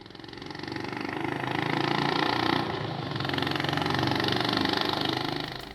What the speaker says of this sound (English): The company's managed to introduce a thumpy exhaust note that sounds uncharacteristic of a Honda.